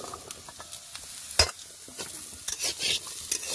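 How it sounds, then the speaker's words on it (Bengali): Potatoes fry and get stirred in a pan in a home kitchen, with a steady close sizzle broken by scraping stir strokes, one louder clatter and a few sharper spatula knocks. "এদিকে আমার আলুটা ভাজা হয়ে গেছে"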